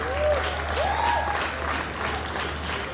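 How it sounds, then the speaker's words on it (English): A crowd applauds at a stage dance show, with steady, dense clapping across the whole stretch and a few faint whistling tones above it. "Please give him a very big round of applause."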